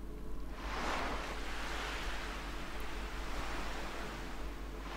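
A tall wave surges and crashes in the Chrono Cross video game, a broad rushing roar that swells in the first second and then holds as a steady, loud wash of surf.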